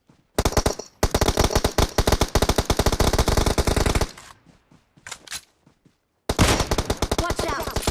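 Loud, rapid automatic gunfire in PUBG Mobile blasts in long bursts, pauses briefly through a few scattered shots, then resumes at full volume, very close.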